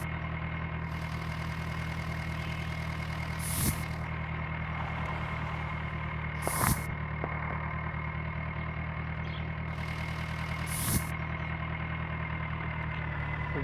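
A tractor engine in a tractor video game, idling with a steady low drone throughout and a few brief louder clanks or thumps at intervals.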